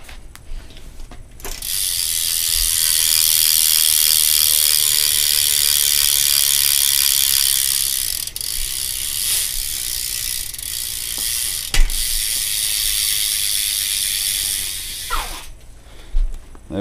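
An Odyssey V3 hub on a 2012 Eastern Bikes Grim Reaper BMX freewheels with a loud, rapid buzzing ratchet click for about thirteen seconds, then slows and stops with a few knocks at the end.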